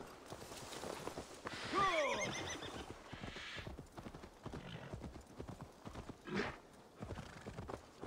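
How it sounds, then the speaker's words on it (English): A horse whinnies loudly in Assassin's Creed Valhalla as it comes out of water, followed by rhythmic clip-clopping hooves moving at a steady pace, with scattered background game sounds. "There's your horse coming out of the water"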